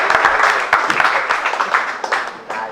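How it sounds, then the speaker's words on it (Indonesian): Audience applause at a youth pledge day gathering with community organizations, a steady dense patter of clapping lasting several seconds with a few brighter accents. "Tepuk tangan buat kelakuan itu juga."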